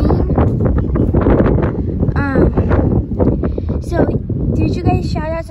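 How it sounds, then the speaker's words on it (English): Loud wind buffets the microphone in rough, continuous gusts while a person talks over it, with a few sharp chirping sounds breaking through. "it's just super windy today"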